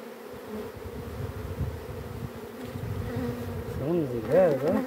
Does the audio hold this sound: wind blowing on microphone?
no